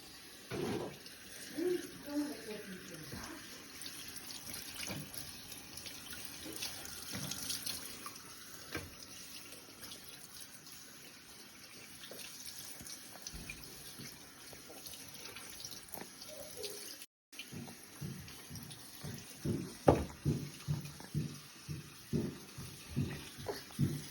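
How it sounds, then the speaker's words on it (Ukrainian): Cold water from a tap runs and splashes over homemade butter in a kitchen sink, faint at first and then breaking into rhythmic splashes as it is rinsed, with a voice speaking softly. "Його приливаємо холодною водичкою."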